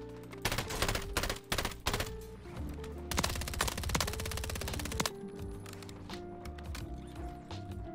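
Rapid automatic gunfire in Call of Duty Warzone solos, with several loud sustained bursts and a short pause, followed by lighter mechanical clicks and tones, close and dense.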